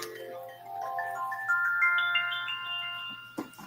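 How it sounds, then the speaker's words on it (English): A phone ringtone plays alone, a rising series of bright, clean electronic tones stepping upward in a cheerful melody, fairly close and clear, ending with a short clatter. "Let me turn the sound down on my phone."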